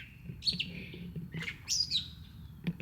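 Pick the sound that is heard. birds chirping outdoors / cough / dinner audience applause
birds chirping outdoors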